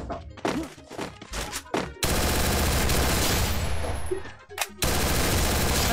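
Gunfire in a shooting video game: several sharp shots in quick succession, then a dense, loud stretch of overlapping firing and impacts, close and harsh, with no talking.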